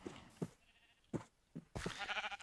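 Sheep bleating in a Minecraft-style video game: several short, clear bleats spaced apart, followed by a louder, busier stretch of game sound near the end.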